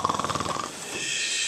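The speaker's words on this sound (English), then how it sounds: "Keep snoring" A person snores in a fast, rhythmic series of rasping breaths close by, then it fades into a steady hiss of noise.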